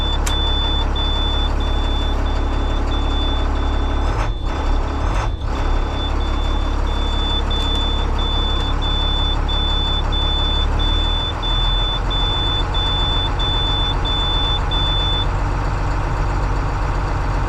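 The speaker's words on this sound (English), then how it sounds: "I've engaged the fast idle solely off of listening to it." A bus engine runs at a steady fast idle, a continuous loud low drone heard close up that holds level throughout, with a repeating reversing beep sounding alongside.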